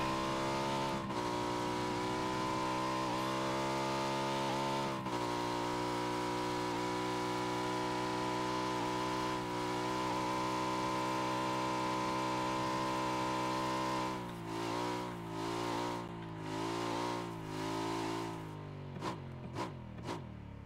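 A car driven in PUBG gives a steady loud engine drone with strong harmonic tones, shifting pitch as it revs and slows, then sputtering into short bursts near the end.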